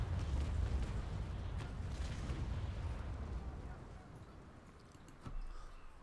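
Naval Action cannon broadsides from sailing warships roll out as a dense run of deep booms and rumbling blasts, heavy at first and fading, with a final sharper report near the end.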